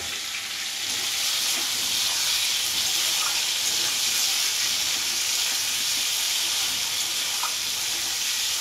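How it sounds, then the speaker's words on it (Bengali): Steady, loud sizzling of chicken frying in a pan, a constant bright hiss with faint crackles throughout. "এটা ভাজা হোক"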